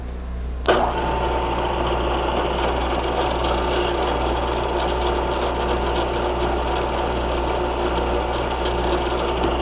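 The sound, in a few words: center drilling a 1/4 inch hole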